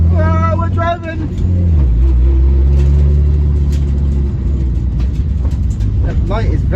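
Nissan R33 Skyline being driven, a loud low engine rumble that shifts in pitch as it moves, with people talking over it and a high whine near the start.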